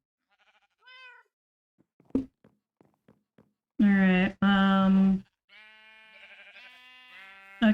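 Sheep bleat loudly in a video game, two long wavering calls followed by softer bleats, with scattered clicks and brief speech nearby.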